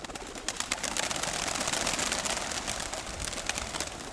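Pigeons coo outdoors, and one dark grey bird is flying nearby. Soft cooing comes through a dense, crackling background of rustle and flutter, moderately close, with no talk.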